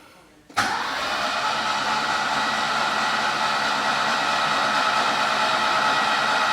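A Saab 99 Turbo that sat unused for over 13 years cranks briefly with a sharp catch, then fires and settles into a steady, loud idle that holds without pause for several seconds.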